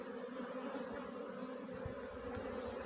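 A swarm of honey bees moves into a log, a dense, continuous buzzing hum close by and fairly faint, with no voices.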